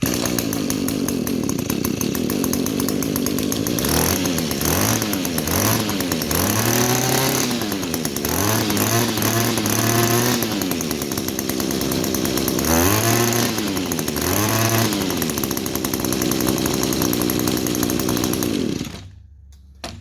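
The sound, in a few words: Echo string trimmer engine running with throttle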